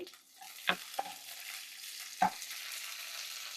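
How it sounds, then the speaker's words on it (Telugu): Green chilies fry in hot oil in a small pan, a quiet steady sizzle broken by a few sharp clinks of a utensil stirring against the pan. "ముందుగా స్టవ్ వెలిగించి ఒక చిన్న ప్యాన్ పెట్టుకొని కాస్త ఆయిల్ వేయాలి. ఆయిల్ వేడెక్కాక పచ్చిమిర్చి,"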